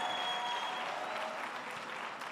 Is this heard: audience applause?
yes